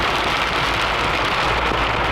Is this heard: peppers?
no